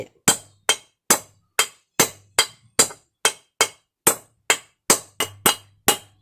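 About fourteen sharp metallic hammer taps at an even, steady pace, driving a bearing into aluminium during an engine build, each ringing briefly on metal, close and loud with no talking.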